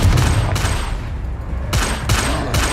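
Bursts of a fiery spell explosion in the video game Hogwarts Legacy, three dense booming blasts with crackling tails that crowd the short stretch, loud and close, with no voice over them.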